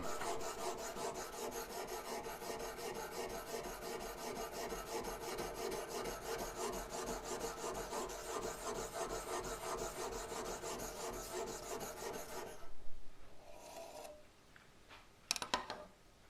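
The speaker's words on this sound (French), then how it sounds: "je sais que j'ai mes 26 degrés pour pouvoir affûter ma lame" A knife blade is drawn repeatedly across an EasyAffut guided sharpener set to 26 degrees, giving a steady close rasping scrape for about twelve seconds that then stops, followed by a few scattered handling knocks.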